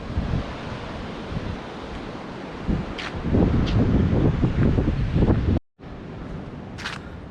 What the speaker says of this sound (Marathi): कारण सतत वारा आहे